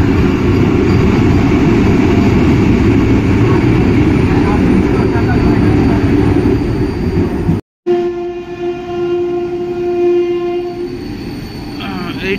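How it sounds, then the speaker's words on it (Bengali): An empty Vande Bharat train picks up speed with a loud, building rush and roar, passing close by, then a brief cut to a steadier mechanical tone with a sustained horn-like hum; people talk underneath. "খালি ট্রেনটা পিক আপ নেবে, দেখো খালি পিক আপ কাকে বলে"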